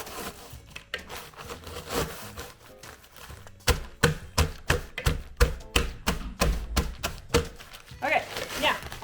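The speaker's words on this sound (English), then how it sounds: "you could just smack your graham crackers just like so and get them all smushed" Graham crackers smacked by hand to crush them for a no-bake cheesecake crust, a rapid run of about a dozen sharp, loud thumps in steady rhythm, preceded by rustling and handling noise.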